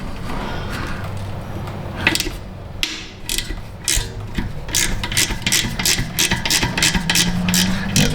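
Ratchet and socket turning a bolt on a rusted Toyota Prius, quick runs of close metallic clicks repeating steadily over a low background hum, with no voices.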